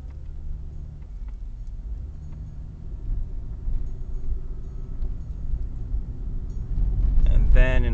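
Engine of a 2002 Pontiac Bonneville with a 3.8 motor, heard while driving with an unusual noise: a steady low rumble with faint ticking, growing louder toward the end, alone without talk.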